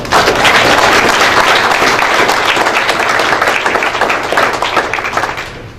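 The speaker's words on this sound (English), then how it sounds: "I think that's worth a round of applause" A crowd at a college graduation ceremony applauds, a loud, sustained wash of clapping that holds steady and then begins tapering off near the end.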